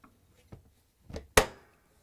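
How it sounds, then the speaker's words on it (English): The outer door of a GE dishwasher swings open with a couple of soft creaks and then a sharp, close clunk as it drops, quiet otherwise. "Latch the inner door and open the outer door."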